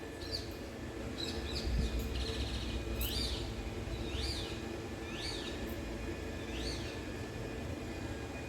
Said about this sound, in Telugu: చిట్టి పిట్టలు ఆల్రెడీ చెట్టు మీద తిరుగుతున్నాయి